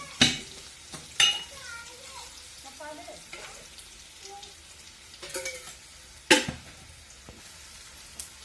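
Masala being fried in oil for dal tadka: a light sizzle beneath several loud, sharp spatula knocks against the pan, spaced irregularly, with soft stirring scrapes in between, close and clear.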